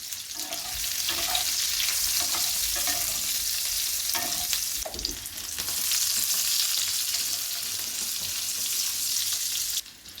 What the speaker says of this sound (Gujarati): હવે જે આપણે ગુંદા ભરીને રાખ્યા છે ઉમેરી દઈએ અને હલાવી લઈએ.